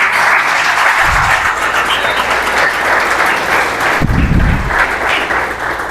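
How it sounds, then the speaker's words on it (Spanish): A church congregation applauds the Lord with sustained, loud, even clapping throughout. A couple of low thumps stand out early and again near the end. "Un aplauso al Señor."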